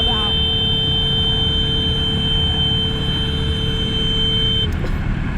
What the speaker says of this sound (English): Why are you continuing to use the horn all the way down the road?